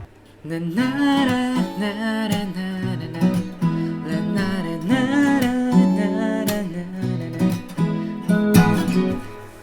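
Acoustic guitar played with a plucked fingerstyle pattern, percussive slaps on the strings punctuating a steady, busy rhythm; close and fairly loud, no voices.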